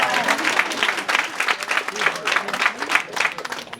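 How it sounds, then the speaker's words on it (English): Brief burst of audience clapping at a talk with a rock photographer, a moderate, even patter of many hands lasting a few seconds. "That's worth a clap. You should clap for that."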